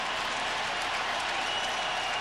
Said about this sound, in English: this packed house crowd is flat out getting into this ball game